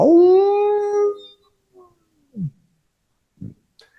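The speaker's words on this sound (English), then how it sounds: "you stop for a moment when you hear howls from the west" Wolves in a tabletop fantasy game scene give a long rising-and-falling howl with rich harmonics lasting about a second, followed by a few faint yips and short whimpers trailing off into quiet.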